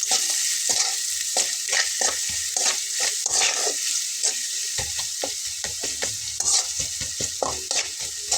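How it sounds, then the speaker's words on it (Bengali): Onions fry in a pan with salt and turmeric added, a constant close sizzle broken by repeated scraping stirs of a spoon at an irregular rhythm. "পেঁয়াজটা ভাজা হতে হতে আমি এখানে লবণ দিয়ে নিলাম পরিমাণ মতো"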